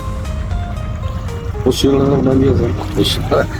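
A boat on the Jamuna river hums steadily with a low engine drone, water trickling and splashing close by, as people talk over the noise.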